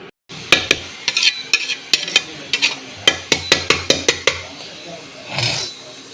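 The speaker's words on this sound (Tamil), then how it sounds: "அப்படியே கிண்டி விடணும், அவ்வளோதான். அடிமேலும் கிண்டி விட்டோம்னா சரியாக வரும்." Spoon stirring basmati ghee rice in a pan, a string of quick scraping strokes against the metal at a brisk uneven rhythm, close and clear, ending in a softer shuffle.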